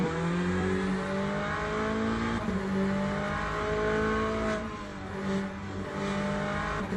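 A Lola T70 MkII Spyder race car with a Ford engine in a racing video game at Road America, a loud continuous engine roar that rises and falls through gear changes, with no talk.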